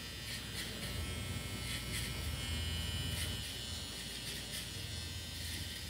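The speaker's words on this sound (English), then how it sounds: "This trimmer is the truth. This thing will remove all the hair." An electric hair trimmer buzzes steadily up close while stamping a fade guideline during a haircut, its hum continuous with slight pulsing as it moves along the head.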